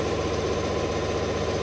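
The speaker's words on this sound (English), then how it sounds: "There goes the compressor." A workshop air compressor running steadily, a loud continuous mechanical drone with a low hum that stays even throughout the brief moment.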